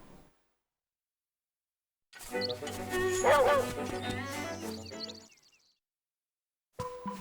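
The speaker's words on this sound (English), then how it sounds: "And there's another dog." Video game dog from The Legend of Zelda: Link's Awakening barking, a burst of repeated high-pitched yips and bow-wows in quick succession with chiming game sounds, fairly loud, then stopping before more game audio.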